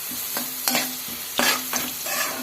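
A pan of onions frying with turmeric and salt, a spoon scraping and stirring through them in uneven strokes over a steady close sizzle, with no voices.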